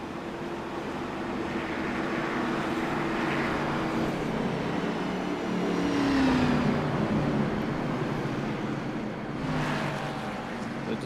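Race cars in a NASCAR sim racing game circle the track at steady speed as they form up into two lines, a continuous engine drone that swells slightly midway, with no talk over it.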